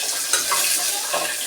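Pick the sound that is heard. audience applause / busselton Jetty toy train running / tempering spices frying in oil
tempering spices frying in oil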